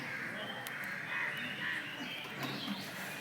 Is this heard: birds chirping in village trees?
yes